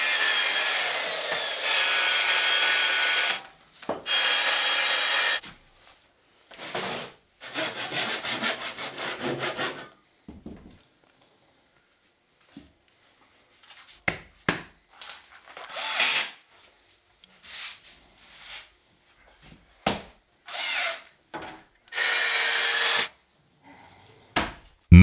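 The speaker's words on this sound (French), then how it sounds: "Pour cela, découpe la plaque." A dry screed floor panel being cut with a saw: loud stretches of rasping sawing early on, then shorter intermittent cutting strokes and pauses in a quiet room.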